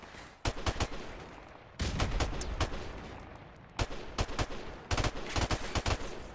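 Gunfire in Call of Duty Modern Warfare Remastered multiplayer, rapid bursts of automatic shots in clusters with short gaps between them, fairly loud and alone without talk.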